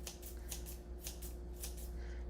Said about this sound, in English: I'll just grab the herb scissors and chop